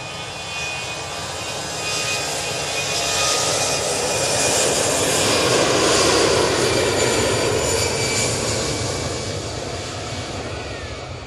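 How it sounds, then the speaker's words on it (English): A TUI Boeing Dreamliner jet comes in to land at Manchester Airport, a broad steady engine roar that swells gradually toward the middle and then eases slightly, heard alone without voices. "TUI Dreamliner's coming down Tango."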